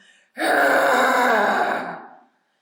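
One sustained, harsh vocal growl of about two seconds, made with the jaw pushed forward during a tension-release exercise; it starts abruptly, is loud and close, and trails off into silence.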